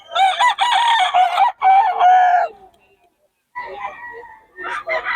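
A Boston and Gilmore gamefowl rooster crows loudly and nearby in a long, ringing call, followed after a short pause by a second rising crow and a few clucks.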